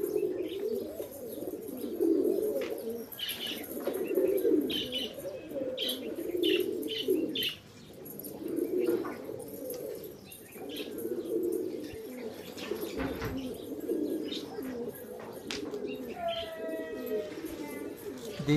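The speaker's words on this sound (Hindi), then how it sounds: "आज एक लाल कबूतर नया उतरा है आज छत पे" Soft, repeated pigeon cooing in low murmuring phrases, fairly close on a rooftop, with occasional chirps and a brief flutter near the end.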